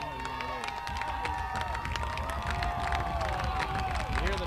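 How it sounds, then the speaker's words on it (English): Near the end of a high school football game, the home crowd at a St. Cloud Tech versus St. Cloud Apollo matchup cheers and claps in a loud, continuous roar, with voices rising through it. "You hear the Tech crowd showing their appreciation"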